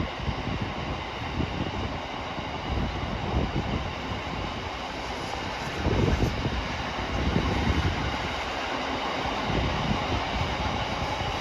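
A freight train rumbles past near Didcot in Oxfordshire, a loud, continuous roar of rolling wagons that swells slightly midway and carries on steadily with no talking.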